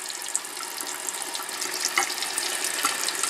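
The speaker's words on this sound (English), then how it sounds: "I'm just going to run it under the water" Tap water runs in a steady, soft stream over an e.l.f. powder brush held bristles down, a faint continuous splash with a few small clinks.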